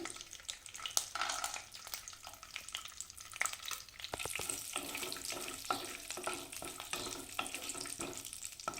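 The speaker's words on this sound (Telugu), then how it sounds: "ఇప్పుడు ఇందులో జీడిపప్పులు బాదం పప్పులు ముందుగా వేసుకొని కాస్త ఫ్రై చేసుకోవాలి" Cashews and almonds frying in melted ghee in a pan, a steady crackling sizzle with occasional stirring scrapes, close and moderately loud, no talking.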